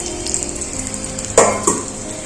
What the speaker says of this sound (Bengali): বেগুনটা কিছুটা ভাজা হচ্ছে